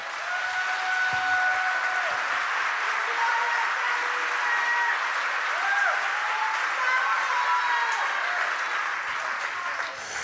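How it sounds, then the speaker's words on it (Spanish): Sustained applause from a church congregation, dense and even throughout, with a voice faintly audible over the clapping. "Si lo cree, dele un aplauso al Señor."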